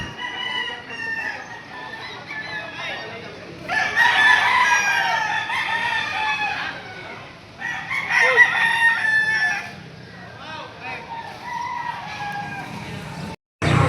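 Roosters crow repeatedly at a chicken market in Padre Garcia, several long calls rising over a steady crowd murmur and clucking, fairly close and loud.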